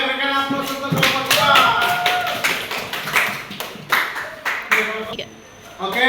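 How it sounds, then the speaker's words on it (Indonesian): Applause from a classroom audience of students for a student group at a school project presentation, a dense stretch of clapping with sharp individual claps standing out, voices chattering beneath and the clapping thinning toward the end. "Oke, berikan aplaus untuk kelompok"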